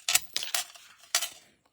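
Scissors snip through glitter paper card in a few short, crisp cuts close by, with a brief pause before a final snip.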